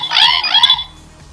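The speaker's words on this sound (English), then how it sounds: "then it has an alarm sound" A Power Rangers Dino Thunder Dino Morpher toy alarm sounds: a loud, warbling electronic tone rising and repeating twice, then cutting off into quiet.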